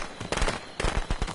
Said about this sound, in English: I just made firecrackers go